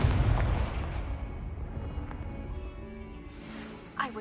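Confringo spell explosion in a Harry Potter video game (Hogwarts Legacy): a heavy, close boom opens and rolls off into a low rumble, followed by softer game ambience and a faint later burst.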